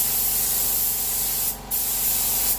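A spray gun applying matte NC paint gives a steady, loud hiss of atomised spray, cutting out briefly near the middle before resuming.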